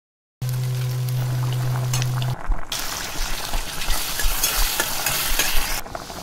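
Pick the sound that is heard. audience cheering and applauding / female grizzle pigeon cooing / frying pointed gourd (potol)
frying pointed gourd (potol)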